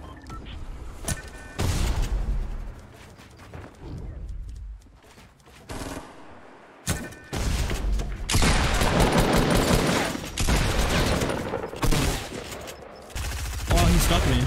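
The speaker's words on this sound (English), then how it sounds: "I'm shooting at people" Bursts of automatic gunfire in Fortnite Battle Royale, loud and close, coming in repeated rapid volleys with short gaps and a few lulls between them.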